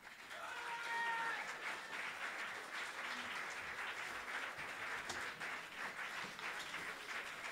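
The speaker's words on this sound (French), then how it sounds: "On les applaudit s'il vous plaît" Audience applause at a high school music festival event, broad steady clapping sustained for several seconds, fairly quiet and distant, with a few faint voices.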